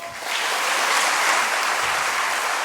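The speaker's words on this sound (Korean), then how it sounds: "다시 한번 큰 박수 부탁드립니다" Audience applause fills a lecture hall after a keynote talk at a quality conference, a dense steady clapping that swells in quickly and holds loud and even throughout, with no voices over it.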